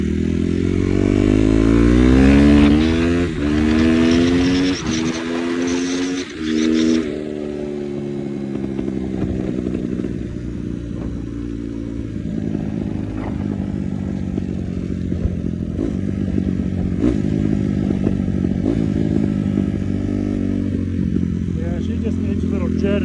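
A Honda CRF250 dirt bike is ridden nearby, its engine revving loudly at first, then easing into a steadier running drone with intermittent surges, clatter and scraping over the length of the ride.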